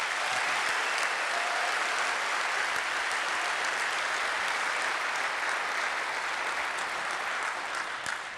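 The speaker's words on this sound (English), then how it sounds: "let's give them a big round of applause" Sustained, dense applause from a large crowd at a city government event, steady and loud throughout with no voices rising above the clapping.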